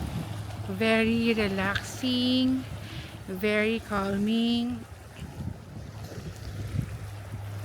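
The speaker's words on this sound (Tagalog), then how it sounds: "Ang sarap pakinggan ng alon ng dagat" Sea waves wash steadily onto a beach at Subic, a soft continuous rush under a nearby voice that keeps going once the talking stops.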